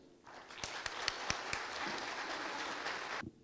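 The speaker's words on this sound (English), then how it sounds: "How about another round of applause for Governor Leon Guerrero?" Audience at a Guam planners' symposium breaks into applause for the Governor, a brief swell of clapping with a few sharp close claps, sustained for about three seconds before cutting off.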